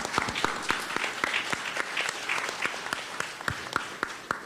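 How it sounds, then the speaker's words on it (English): An audience gives a continuous round of applause, with dense, moderately distant clapping filling the whole stretch and no speech over it. "A hand of applause for"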